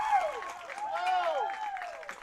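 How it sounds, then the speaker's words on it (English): Fans at a 14U youth baseball game between MacNSeitz and the KC Roosters cheer and clap steadily, with raised voices and whoops rising and falling over a continuous bed of crowd noise. "So excited fans for their teams, cheering everyone on."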